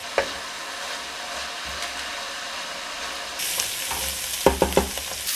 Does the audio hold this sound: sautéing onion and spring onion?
yes